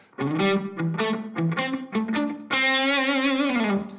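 A distorted electric guitar plays a quick, punchy lick of short notes, ending on a long sustained note with vibrato.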